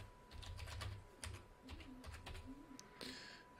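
Quiet typing on a computer keyboard while entering a username, a quick run of soft key clicks with short pauses, close and faint.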